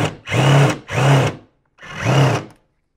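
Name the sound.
power drill with Phillips number 3 bit on Mortorq socket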